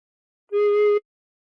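A single sustained recorder note played with fingers covering holes 1 to 5, held steady for about half a second and heard alone, clear and close.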